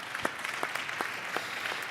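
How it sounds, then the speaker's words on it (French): Sparse, faint clapping from a small audience at an awards ceremony, a few scattered claps spread out rather than a full ovation. "Donc vous pouvez applaudir l'ange."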